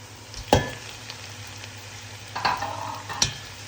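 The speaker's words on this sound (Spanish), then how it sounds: "Lo añadimos y lo que vamos a hacer va a ser mezclarlo todo con la cebolla bastante bien" Pork tenderloin being stirred with onion in a frying pan, a soft low sizzle under a few distinct scraping stirs of a utensil, one sharp clack near the start and two more toward the end, with no talking.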